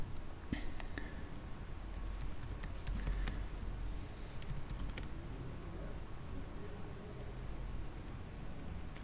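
Faint, scattered clicks of typing on a computer keyboard, irregular and hesitant, set against a quiet room hum.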